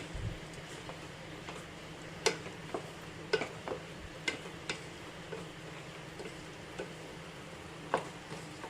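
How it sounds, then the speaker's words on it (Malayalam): A spoon stirs a thick jaggery mixture in a pan over a low flame, giving sparse, soft taps and scrapes against the pan above a faint low sizzle, quiet and close with no talking. "ഫ്ലെയിം കുറച്ച് വയ്ക്കണം നല്ലപോലെ ഇളക്കി ഒന്ന് യോജിപ്പിച്ചു കൊടുക്കണം"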